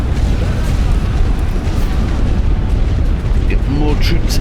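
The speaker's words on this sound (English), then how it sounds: "Artillery everywhere." Artillery shells bursting in The Great War: Western Front, a dense continuous rumble of heavy booms and blasts layered over one another, loud and close throughout.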